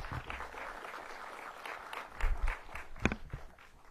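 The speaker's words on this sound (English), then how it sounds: "Let's give her another round of applause" An outdoor audience at a county ribbon-cutting ceremony claps for a few seconds, the applause fairly faint and distant, with some crowd murmur underneath.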